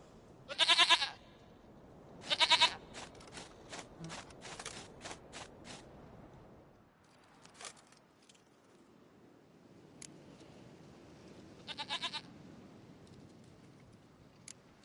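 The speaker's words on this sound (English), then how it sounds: "Goat of mine, dearest, sweetest goat." A video-game goat bleats in several loud, close, wavering calls, two near the start and a fainter one near the end. Soft footsteps and small mechanical clicks fill the gaps between calls.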